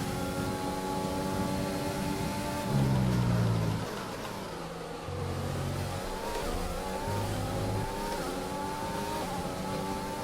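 F1 race cars in the video game F1 2020 scream through shifting engine revs during an overtake, with the whine rising and falling as gears change, loud and continuous, with no talk.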